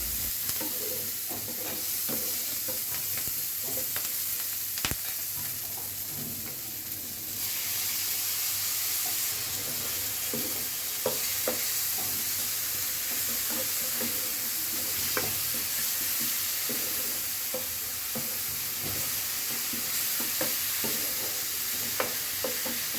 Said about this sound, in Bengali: তো এখানে আমি রান্না করছি লাউ শাক দিয়ে, চিংড়ি মাছ দিয়ে, সিম দিয়ে, আলু দিয়ে, মজার একটা তরকারি